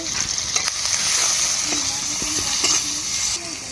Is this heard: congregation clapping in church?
no